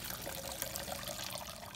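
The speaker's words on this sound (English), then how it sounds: "Pour the fuel out because fuel's getting more expensive." Fuel trickles and pours out of an Audi A4 fuel pump assembly during a pump replacement, a faint, continuous liquid splashing heard up close with no speech.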